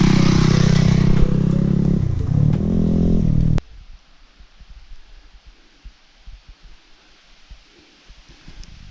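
Motorbike engine out in the countryside near Friemersheim, a loud, steady droning rumble that cuts off abruptly after a few seconds, leaving quiet outdoor ambience with faint scattered knocks.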